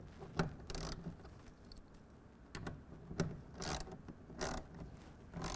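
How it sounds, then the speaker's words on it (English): A ratchet with a 1/2-inch socket tightens a clamp on a Gator EFX hard folding tonneau cover on a 2024 Ford F-150. Short, quiet bursts of clicking repeat irregularly, with brief pauses between strokes. "take a ratchet with a 1/2-inch socket. Again, make sure we're pushed all the way to the bulkhead up at the front, and we're going to tighten this down"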